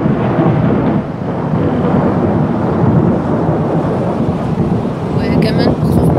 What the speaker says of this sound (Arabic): مع بدء وصول الأصوات الرعدية